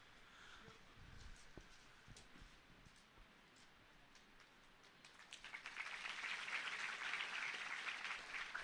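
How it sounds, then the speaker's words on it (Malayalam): A church hall audience, urged to raise their hands, breaks into clapping. It starts with scattered faint claps and small knocks, then swells into a fuller round of applause in the second half, heard at a distance. "ഈ കൈയടി പോരാ, നിങ്ങൾ കൈ പൊക്കിയൊന്ന് അടിച്ചേ"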